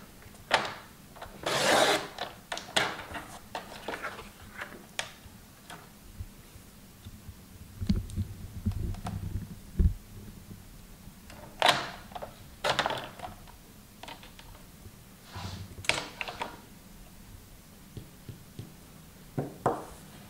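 Paper being cut for a handmade scrapbook album, with intermittent close snips, rustles and small clicks spaced unevenly as sheets are handled on a table, no talking.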